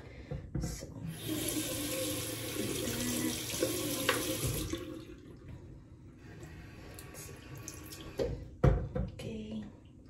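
Warm water runs from a tap into a Navage nasal care device, a steady close rushing splash for several seconds that stops, followed by a few faint clunks and handling noises.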